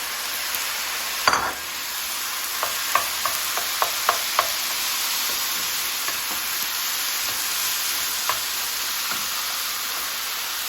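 Chicken pieces frying in a hot pan for a tomato chicken rice dish: a steady bright sizzle throughout, broken by a series of light scraping stirs and clinks of the utensil against the pan.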